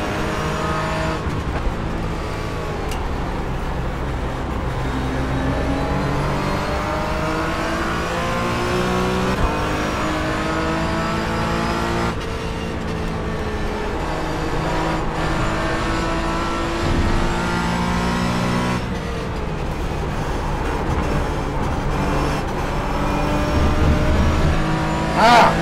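Porsche Cayman GT4 race car in the iRacing sim at Watkins Glen, its engine droning loud and continuous with rising and falling revs through gear changes for the whole stretch.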